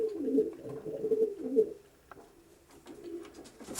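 Pigeons coo inside a loft, several soft, throaty rolling coos close by in the first half, then quieter coos and faint rustling.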